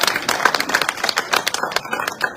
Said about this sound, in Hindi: एक मरतबा जोरदार तालियां बजाकर मुझे इजाजत दे दें